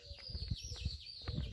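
Small birds chirp faintly in an outdoor spot near a hotel in Belmonte, with thin high calls over a low rumble of background noise.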